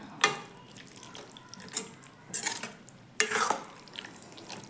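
Cooked food with coriander is mixed by hand in a dish. The soft squelching and rustling comes in several separate bursts, close and fairly quiet.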